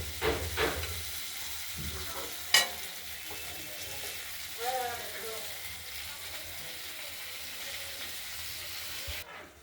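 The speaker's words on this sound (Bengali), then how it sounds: "বারে বারে আমরা সিমগুলোকে নাড়াছাড়া দিয়ে দেব নাহলে তো পোড়া লেগে যাবে" Flat beans fry and sizzle in a pan as they are stirred, a steady hiss broken by a few sharp scrapes and clacks of the utensil against the pan.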